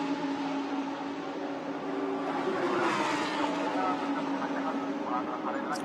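Lamborghini Super Trofeo race cars at Fuji, with distant engine tones rising and falling under a commentator's continuous talk as a car sweeps by mid-clip.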